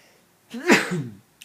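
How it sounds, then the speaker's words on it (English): A single short sneeze bursts out close by, sharp and breathy, then fades quickly. "I was gonna sneeze"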